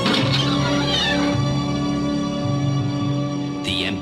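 A cat meows in a drawn-out, loud call, with a brief second meow near the end over a steady background hum.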